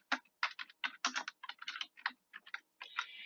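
Typing on a computer keyboard while writing a Hello World program in Microsoft Visual Studio: uneven clusters of crisp key clicks in short bursts with brief pauses, close and fairly quiet, no speech.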